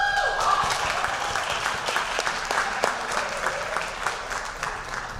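Sustained applause from a banquet audience at a fall athletic awards night honoring a girls varsity soccer team, a steady wash of clapping with a few whoops.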